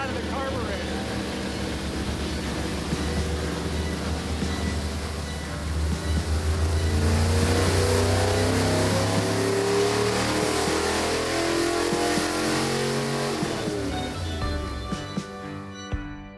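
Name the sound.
carbureted car engine revving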